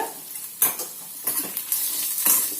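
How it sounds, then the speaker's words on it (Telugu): Finely chopped onion frying in a pan for pesarattu upma, a steady sizzle with several distinct clinks and scrapes of a spatula stirring against the metal. "ఒకటి ఉల్లిపాయ తీసుకొని సన్నగా తరిగాను అది వేసుకుందాము అది వేగాలి"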